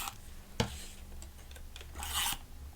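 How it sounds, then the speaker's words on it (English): Soft crinkling and rubbing as tape is pressed onto the paper tabs and flap of a craft project, with two short brushing bursts close by in a quiet room. "now we're just going to add some tape to these tabs"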